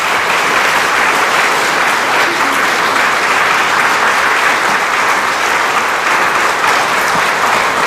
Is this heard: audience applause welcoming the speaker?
yes